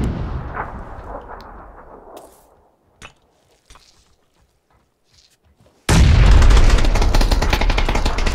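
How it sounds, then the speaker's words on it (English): A grenade thrown during a PUBG firefight produces scattered sharp shots and thuds over a fading rumble. After a quiet gap comes a sudden loud blast with sustained gunfire, with no talk over it. "Chucking a grenade."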